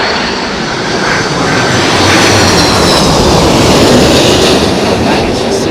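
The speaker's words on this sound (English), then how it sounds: "And that is the CF6 engine powering that 330." An Airbus A330 with CF6 engines roars steadily at London Heathrow in strong wind, a loud, continuous broadband jet rumble with gusty texture and no voices.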